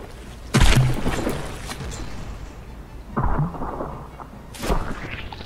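Battleship cannons fire shells in the naval combat game From The Depths, giving three heavy booms spaced over several seconds with rumbling decay. They sound moderately distant against a steady background hum.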